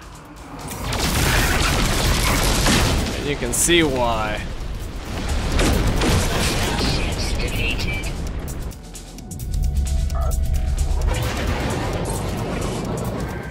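A cannon weapon in the video game No Man's Sky fires in loud rumbling blasts and rapid bursts, heavy booms repeating over several seconds, while someone talks.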